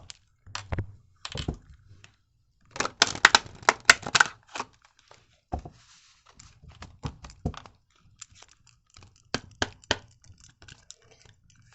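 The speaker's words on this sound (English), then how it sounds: "Okay, I feel like I can shuffle these regular." Playing cards being shuffled and riffled in short irregular bursts, with soft taps and rustles between them, close up and without speech.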